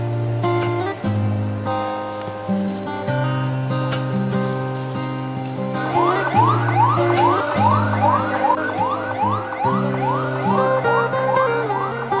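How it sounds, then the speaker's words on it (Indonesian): An ambulance siren wails in the street during the COVID-19 pandemic, its rising and falling sweeps growing louder halfway through over steady sustained tones. "setiap saat ambulan mondar-mandir di jalanan, membawa dan merawat pasien"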